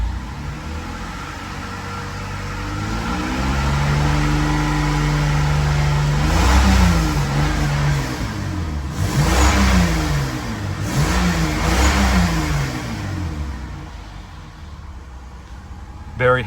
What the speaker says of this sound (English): look how smooth this motor is